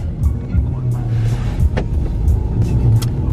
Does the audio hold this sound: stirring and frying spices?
no